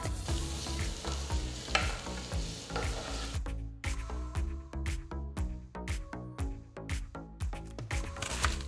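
Chopped garlic sizzles and crackles steadily in hot olive oil in a pan while a utensil scrapes and stirs in quick, repeated strokes, close and continuous.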